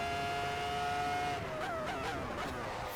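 A Ferrari F2004 race car engine in the Assetto Corsa racing game roars at high, steady pitch, then the revs drop and warble through a gear change, loud and close with no voices.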